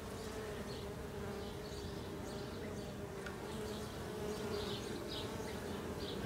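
Honey bees buzz steadily around an active hive of a moved swarm, a dense continuous drone holding at an even level throughout with no talking.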